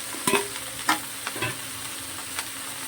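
Okra frying in a pan with turmeric, stirred with a spoon: a steady low sizzle carries a few sharp scraping stir strokes at irregular intervals, close and moderately loud, with no talking.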